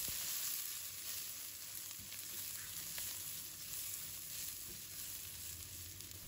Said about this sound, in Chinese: 再把香菇放入锅中，快速翻炒，保持大火